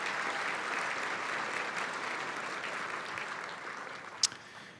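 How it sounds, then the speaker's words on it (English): An audience applauds at a county education event, a sustained wash of clapping at moderate distance that holds steady for several seconds, with one sharp louder clap near the end. "Let's give them a big round of applause."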